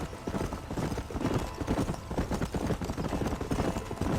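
Horse hooves trot in Red Dead Redemption, a steady rapid clip-clop rhythm that stays close and even throughout, with a faint low voice underneath.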